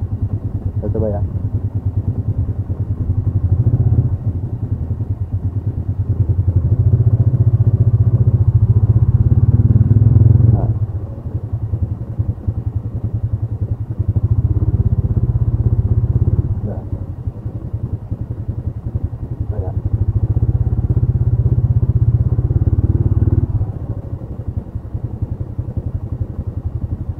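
A manual-clutch motorcycle engine revs and settles as it is ridden, loud rising and falling drones in several cycles, with a person talking over it.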